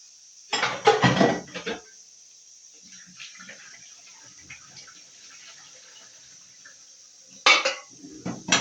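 Dishes, pots and pans being washed at home, two short bursts of clattering metal and splashing near the start and end, with quiet running water and a steady high hiss between.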